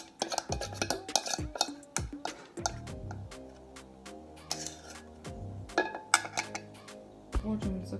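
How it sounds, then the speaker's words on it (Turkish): Wet cake batter is scraped and poured into a glass baking dish, with repeated sharp clinks and scraping of a utensil against glass and a bowl, irregular and close. "Şimdi borcama döküyorum."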